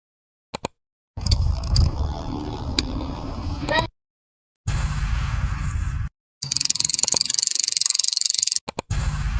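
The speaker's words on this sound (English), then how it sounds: "Now I'll generate a sound effect for the next scene. Bicycle on the road at speed." Generated sound effect of a bicycle speeding along a road: several bursts of broadband rolling and rattling noise separated by short silent gaps, loud and close, with no voices.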